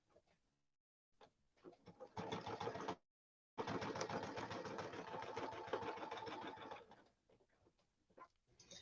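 Sewing machine stitching out a curved Artisan Curves template design, running loud and steady in two long bursts separated by a short pause, with quieter start-and-stop stitching at the beginning and end.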